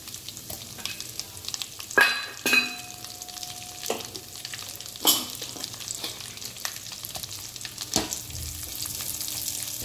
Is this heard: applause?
no